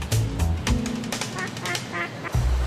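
Loud honking and quacking waterfowl calls close up, overlapping in short repeated bursts over a continuous background.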